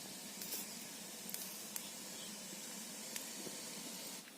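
Steady broadband hiss and bubbling of a pot of fish tinola at a rolling boil, continuous and close, with a few faint clicks and taps.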